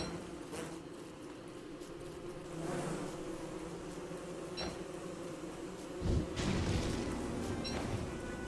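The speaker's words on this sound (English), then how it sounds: "Oh my god, it's a wall of bees." A dense swarm of bees in the video game Don't Starve drones in a continuous, wavering buzz that swells slightly at times, with a few faint clicks and thumps from the game.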